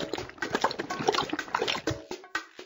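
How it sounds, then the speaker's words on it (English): In the Dora's Pony Adventure game, water pours into a pony's watering trough with a short, soft splashing and trickling that breaks off into a few drips. "Click on the watering trough to give our pony a drink."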